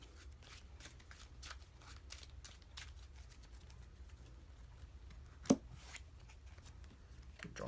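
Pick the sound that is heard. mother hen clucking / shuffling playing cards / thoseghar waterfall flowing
shuffling playing cards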